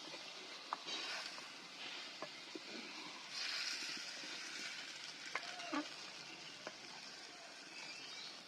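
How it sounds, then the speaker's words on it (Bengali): Marinated chicken sizzles in a soaked clay pot while being stirred, with scattered scraping clicks from the spoon over a steady, fairly quiet frying hiss. "এবার ভালো করে নেড়ে ভেজে নিচ্ছি।"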